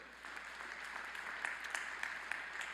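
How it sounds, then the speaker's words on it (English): Faint applause for the faculty at the SIUC 2021 spring commencement, distant steady clapping from a large crowd with a few sharper claps standing out, lasting under three seconds. "I would ask you to give them a big round of applause"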